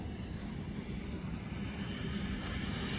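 A Freewing SR-71 RC jet cruises overhead at reduced power, giving a steady, moderately faint electric-fan rush with no break.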